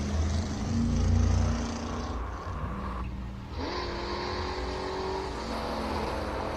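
A classic Chevrolet Corvette Stingray at the Simola Hillclimb roars past at speed, its engine note swelling then shifting as it changes gear and climbs away, steady and fairly loud throughout.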